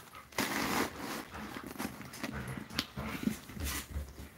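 Puppies whimpering and rustling about indoors, with soft whines, yips and crinkling movement noises scattered throughout, fairly close and without speech.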